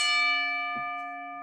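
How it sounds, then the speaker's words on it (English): A single bell struck once to close a show segment, ringing clearly with a long sustained tone that slowly fades, with a soft bump partway through. "let's ring that bell before my wife kills me."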